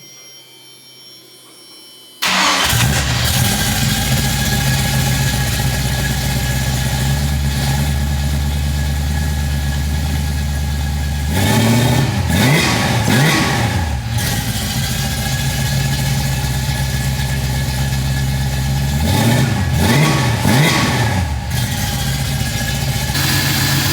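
A 1972 Ford Mustang Mach 1 engine cranks and fires after a moment of quiet, then settles into a loud, rumbling idle close by, broken by two sharp bursts of revving.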